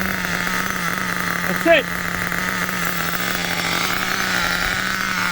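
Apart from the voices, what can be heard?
HPI Nitro MT2 RC truck nitro engine idling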